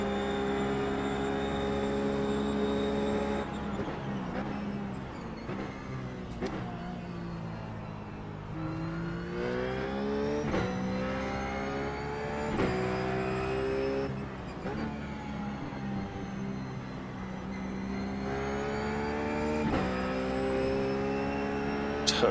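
A Ruf GT3 race car in iRacing at VIR: the engine revs loudly and climbs through upshifts, drops on lifts and braking, then surges again out of corners, close and continuous with no talk.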